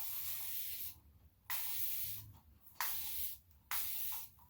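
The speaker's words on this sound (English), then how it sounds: "I like to put it in a spray bottle" A spray bottle of apple cider vinegar and water misting hair and scalp, four loud hissing bursts, each about a second long, separated by short quiet gaps.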